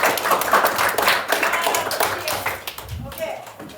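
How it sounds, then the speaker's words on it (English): A small group gives a round of applause, with scattered hand claps and taps that thin out toward the end, mixed with speech throughout. "applause"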